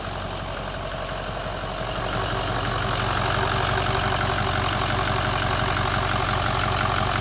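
A Ford F250 truck engine idles steadily and close by after its fuel system has been bled of air, giving a continuous rumbling drone that grows slightly louder after the first couple of seconds, with no talking.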